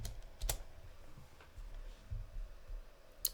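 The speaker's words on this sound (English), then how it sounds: "Don't mind my typing." Quiet clicking of a computer keyboard during a Twitch stream: a few sparse, faint keystrokes scattered over a low background hum, with no speech.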